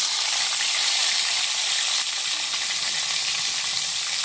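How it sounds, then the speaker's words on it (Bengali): Tomatoes frying in oil left over from frying eggs, giving a steady, even hiss of sizzling that holds constant throughout with no talking. "এখন আমি ডিম ভাজার তেলে টমেটো দিয়ে দেব"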